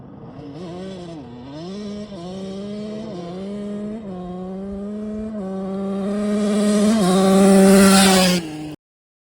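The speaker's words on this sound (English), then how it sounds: "try not to spin the tire as much, but when this power band kicks in, it's kind of hard not to" Honda engine revving hard under full acceleration as the tire spins, a loud, close, steadily climbing drone that rises in pitch through each gear before cutting off abruptly, with no talking.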